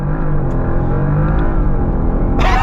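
2025 Porsche Panamera Turbo S E Hybrid under launch control acceleration in Sport Plus, a loud, close, continuous engine roar with climbing revs heard from inside, with a brief hiss near the end.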